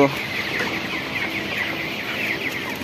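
Broiler chickens on a poultry farm clucking and chattering together, a dense continuous flock sound close by with no break.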